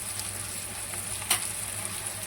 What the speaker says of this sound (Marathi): आता याला मग तेल सुटेपर्यंत परतून घेते चांगलं